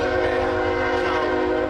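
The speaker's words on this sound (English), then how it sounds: "That's a train coming, the old Chattanooga Express." A train horn blares continuously as a train passes near an outdoor shooting range, a loud sustained multi-tone chord over low rumbling rail noise with no break.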